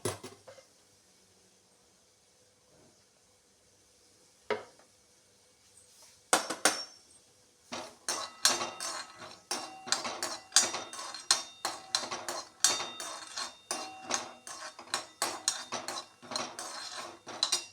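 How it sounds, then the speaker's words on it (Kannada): Peanuts roast with a little oil in a pan, stirred briskly so they rattle and clink against the metal in a rapid, uneven rhythm that grows louder after a few quiet seconds. "ಇಲ್ಲಿ ನಾನು ಕಡಲೆ ಬೀಜ ತಗೊಂಡಿದ್ದೀನಿ. ಅದನ್ನು ಕೂಡ ಸ್ವಲ್ಪ ಎಣ್ಣೆ ಹಾಕಿ ಡ್ರೈ ಮಾಡ್ಕೋಬೇಕು."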